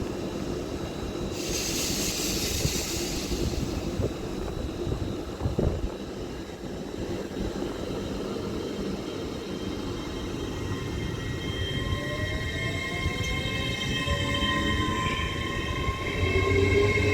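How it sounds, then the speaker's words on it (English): A GWR Class 800 train pulling out of Didcot Parkway toward London Paddington, a steady rumbling roar with rising electric motor whine that builds and grows louder toward the end. "an 800-017 is ready to depart now for London Paddington"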